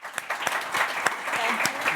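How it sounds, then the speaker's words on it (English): A virtual conference audience applauds a programmatic advertising panel, with scattered claps forming a steady patter for about two seconds, sitting close and moderate in level. "we have a round of applause for the panel"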